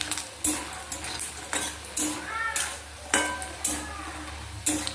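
Bori, small lentil dumplings, fry in a little oil in a kitchen pan, a steady low sizzle under repeated sharp scrapes and clinks of a utensil stirring against the metal, spaced about every second, fairly close.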